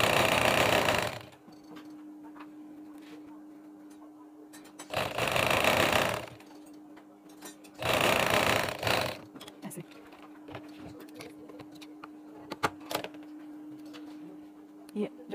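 Sewing machine stitching a fabric sleeve, with three loud bursts of rapid running stitches separated by quieter pauses where only a low steady hum remains.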